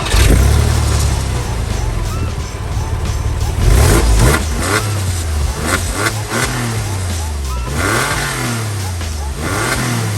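A Porsche 911 Carrera 996 engine revs hard on a highway, its pitch climbing and dropping through repeated gear changes, loud and steady for about ten seconds.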